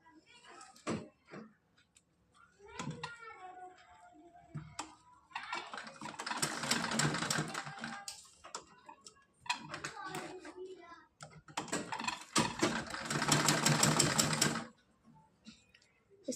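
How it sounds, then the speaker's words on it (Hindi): A sewing machine runs in two sustained bursts as it stitches a folded strip onto a small festival dress, with shorter whirring starts and handling noises between, and someone talks over the quieter parts. "इस तरह से इस पर सिलाई लगा लेनी है।"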